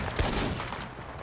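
Gunfire aimed at wolves in the RedM western game, a quick burst of shots standing out near the start and then trailing off into a dense, noisy game soundscape.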